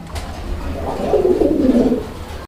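A pigeon gives a single soft, throaty cooing phrase close by over a low background hum.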